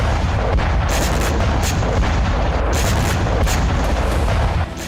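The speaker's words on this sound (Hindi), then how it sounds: "टक्कर से जोरदार धमाका होता है" A Ukrainian drone slams into two Russian infantry fighting vehicles (BMPs), setting off a heavy, sustained rumbling blast with booming low end and crackling bursts throughout, loud and continuous with no voices.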